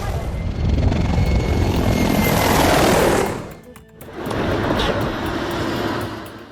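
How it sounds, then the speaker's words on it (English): A Mi-24 helicopter roars past on a runway, its loud rotor and engine noise swelling close by, dipping briefly, then returning as a steady thrumming wash. "She's standing on the Azadlik runway in Bakr as Mi-24 helicopter zoomed past"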